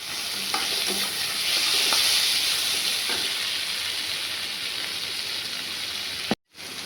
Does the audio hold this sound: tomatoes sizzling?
yes